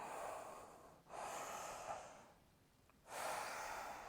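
Deep, audible breaths during a home vinyasa yoga flow, with two long airy inhales or exhales separated by a quieter pause, close and fairly soft.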